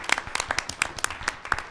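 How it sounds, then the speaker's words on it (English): Light, scattered applause at a school board meeting honoring a Region A wrestling Coach of the Year: a small number of distinct claps, fairly close, in an uneven rhythm over roughly two seconds with no talking. "Please give him a round of applause."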